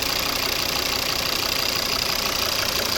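A Volvo V50 2.0 D3 diesel engine (2012, automatic) idles steadily up close, a constant rattling clatter with a rhythmic knock and no voices.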